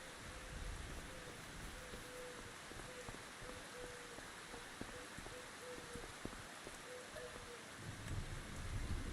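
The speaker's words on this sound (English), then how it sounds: "Get me out of the rain, man." Steady rain falls continuously in a farming simulation video game, a dense, even hiss of downpour lasting throughout with a faint repeating tonal ambience underneath and no voices.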